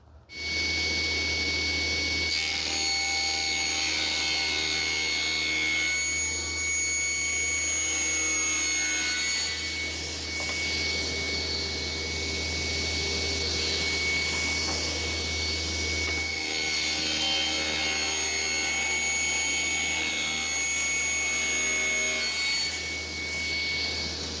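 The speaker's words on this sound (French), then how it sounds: "je vous montre ce que ça donne à la raboteuse" A Proxxon DH40 thickness planer feeds wood through its cutter, giving a loud, steady motor whine layered with rough cutting noise that runs continuously for the whole stretch.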